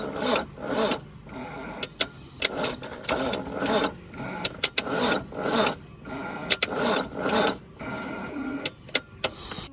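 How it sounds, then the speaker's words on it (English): An abandoned 1980s Mazda truck engine cranks over repeatedly on a new Napa Legend battery, with rhythmic bursts of churning starter noise broken by short pauses and sharp clicks. "Let's see if the old Napa Legend helps her turn over a bit."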